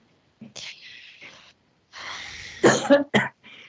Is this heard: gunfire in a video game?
no